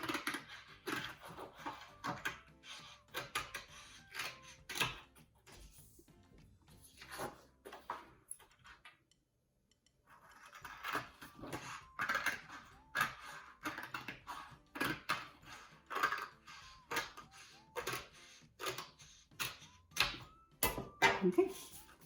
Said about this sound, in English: we're going to take our scissors and we're just going to cut along the crease line